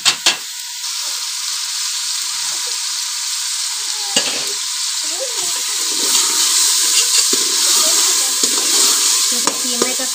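Minced meat (keema) sizzles steadily in a hot pan, a loud, continuous frying hiss with occasional clinks and stirring scrapes over roughly ten seconds, with no voices.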